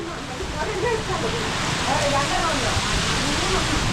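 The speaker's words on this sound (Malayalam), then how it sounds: "ഭയങ്കരമായിട്ടുള്ള രീതിയിലുള്ള പേമാരിയാണ് ഇവിടെ പെയ്തുകൊണ്ടിരിക്കുന്നത്" A heavy downpour with strong wind makes a dense, continuous roar, close and loud, with faint tonal whistles running through it.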